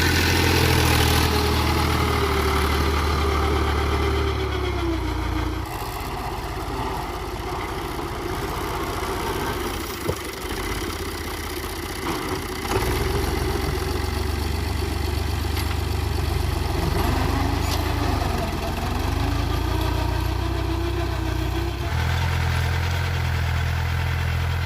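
A tractor's steady engine drone with a low rumble runs continuously as it works soil in a field nearby, shifting slightly in pitch now and then.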